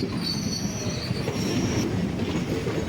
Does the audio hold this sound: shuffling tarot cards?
no